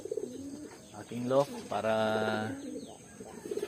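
Racing pigeons coo softly in a loft on a cold morning, several low rolling coos rising and falling close by, with someone talking over and between them.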